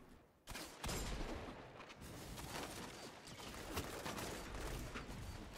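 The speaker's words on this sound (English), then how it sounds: "Oh, that's a sniper." Gunfire in the Destiny 2 shooter game, a sustained loud crackle of shots and impacts after a brief quiet start, without talk.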